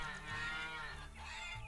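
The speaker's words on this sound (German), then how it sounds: "Die Kühe freuen sich." Cows moo in the farming simulation game Lumberjack's Dynasty, a long, low, droning moo with a second overlapping call, loud and close with game ambience behind.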